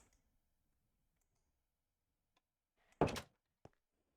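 A wooden door in the Minecraft video game opens and closes, giving a sharp clack followed a moment later by a smaller tick, against near silence.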